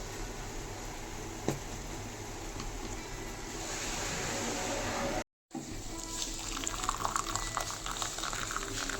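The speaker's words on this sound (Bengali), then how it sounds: "কম লিকারই দিয়েছি, একটু ফুটিয়ে নেব" Light tea bubbles at a steady rolling boil in a pot, a continuous close-up burble and hiss that cuts out for a split second midway and then resumes.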